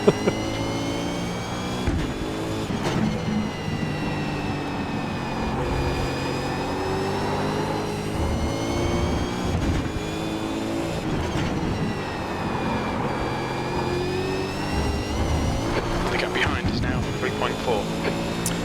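V8 race car in the iRacing sim, its engine note rising and falling through repeated upshifts and downshifts in a steady, moderately loud drone, with a voice talking over it.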